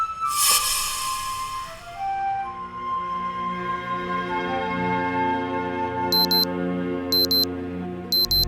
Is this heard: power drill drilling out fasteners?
no